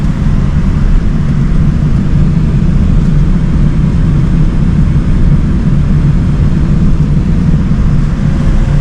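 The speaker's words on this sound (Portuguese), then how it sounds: "estamos aqui já no voo, né? Tá saindo agora, tá taxiando" Inside an airplane cabin during taxi before takeoff, a loud, steady low engine rumble and roar fills the space continuously, with no talk over it.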